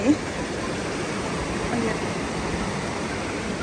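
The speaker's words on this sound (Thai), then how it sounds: "เสียงน้ำไหล" A stream flowing down from the hills into a pond gives a continuous, even rush of water, close and fairly soft, with no other distinct sounds.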